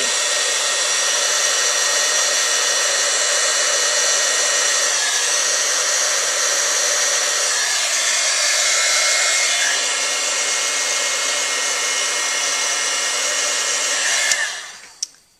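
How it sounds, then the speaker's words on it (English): A heat tool blows steadily to melt heat-and-stick embossing powder, a loud, even, hair-dryer-like hiss and whir running nonstop before cutting off with a click near the end. "Now I'm going to be using my heat tool. I'm going to turn it on"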